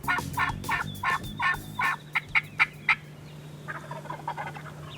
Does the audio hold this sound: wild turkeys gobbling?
yes